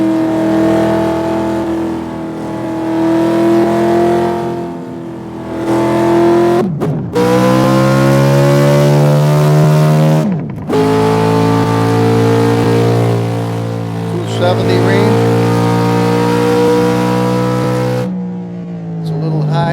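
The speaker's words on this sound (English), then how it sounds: "good acceleration, right up into the 200-mile-an-hour range, no problem" A 1967 Chevelle SS engine roars as the car accelerates hard, the pitch climbing through several gear shifts with brief drops between, loud and close, with a little wheel hop and slip.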